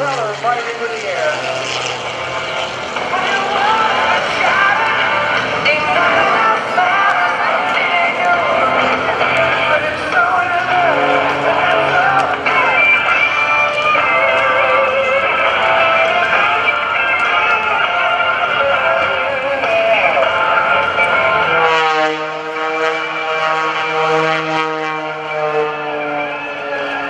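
A 400-horsepower aerobatic propeller airplane engine roars steadily at the NAS Oceana airshow, shifting pitch near the end as the plane maneuvers, with some talk mixed in.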